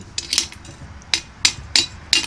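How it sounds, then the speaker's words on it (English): A small hammer serves as a slag hammer, chipping slag off a blacksmith's scrollwork plant holder: five or six sharp metallic knocks in an irregular rhythm, close and fairly loud, with no talk. "I'm going to use it as a slag hammer to knock off some of these little fucking..."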